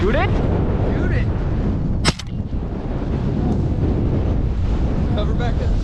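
A single sharp gunshot cracks out during a windy duck hunt, loud and close, with faint duck calls and constant wind buffeting the microphone before and after.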